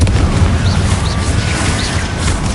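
Confringo blasting curse from the Hogwarts Legacy video game, a dense, rumbling explosive burst that fills the clip at steady loudness with faint magical chirps above it.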